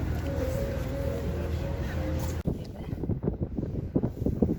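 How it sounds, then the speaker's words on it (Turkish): Strong wind roars and buffets the microphone aboard a ship out of Stockholm in the dark, then drops away abruptly; voices talk indistinctly under the rumble afterward. "Burası çok rüzgar"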